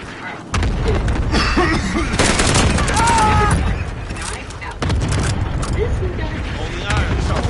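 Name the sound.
cluster airstrike explosions in video game Call of Duty Warzone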